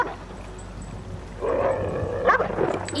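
A dog gives a few short yips and a whimpering bark at close range, rising over a low ambient hum in the second half.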